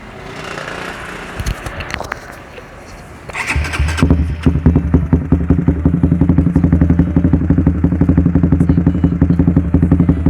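Honda CB150R motorcycle with roadrace-style modifications, engine cranking and catching after a few seconds, then a loud, close, rapidly pulsing idle with light revs.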